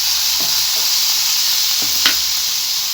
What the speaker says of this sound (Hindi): अब इसे हम अच्छी तरीके से चला लेते हैं